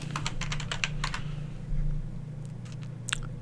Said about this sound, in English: So you just click anywhere, start typing.